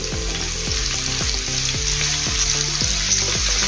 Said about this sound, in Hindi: अपना तेल गरम हो गया है, इसमें पहले हम हींग डालेंगे 5 चम्मच। गैस कम कर देंगे। हींग डालने के बाद प्याज डालेंगे हम